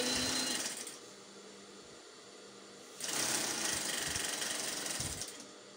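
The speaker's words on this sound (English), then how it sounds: "So I'm just going to sew the hem length, join it together with the lining piece." Sewing machine stitching a dress hem to its lining piece in straight runs, two bursts of steady whirring close by separated by a quieter pause, with no talking.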